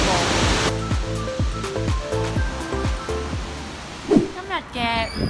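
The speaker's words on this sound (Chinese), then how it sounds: "我而家落咗嚟呢个瀑布啦。" A waterfall in Kagoshima, Japan, rushes in a constant broad roar, heard close with steady intensity throughout, while other noises and faint voices pass over it.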